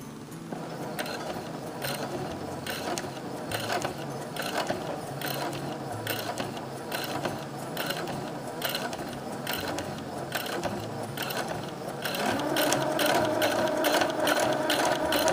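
A domestic sewing machine stitches a mitred corner on a patchwork pot holder, running in a steady rapid mechanical rhythm of needle strokes that speeds up and grows louder toward the end, alone with no talk.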